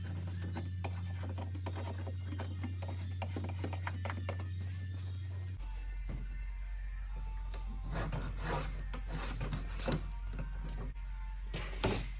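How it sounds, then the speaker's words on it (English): Old adhesive is scraped off the T-top trim pieces of a 1972 Corvette C3 under restoration, a close, steady rasping scrape with repeated strokes over a constant low mechanical hum and no voices. "What I need to do yet is still clean off the rest of the adhesive from these few trim pieces."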